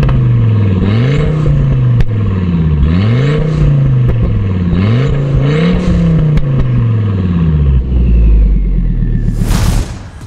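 A Fiat Coupe Turbo's five-cylinder R5 engine revs up repeatedly in loud, rising and falling sweeps with a deep rumble, ending in a sharp burst of noise.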